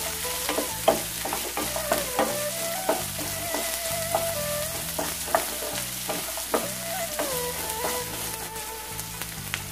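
Shallots, ginger and garlic frying in a pan for prawn theeyal: a loud, constant sizzle with regular spoon-and-pan scrapes and clinks as they are stirred, close up and with no voices.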